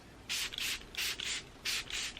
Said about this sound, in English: Today I'm going to use the Smashbox spray just to set everything in place.